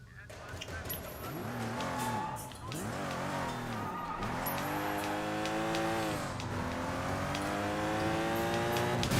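Street racing cars in Sleeping Dogs rev and accelerate with rising and falling engine whines and tire squeals, loud and close over several gear changes, while a voice talks over the driving.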